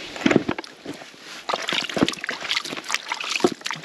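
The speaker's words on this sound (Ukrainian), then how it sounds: "додаю воду, замішую" Water poured into a bucket of fishing groundbait and mixed by hand, heard as close, irregular sloshing and splashing with scattered wet slaps and trickles.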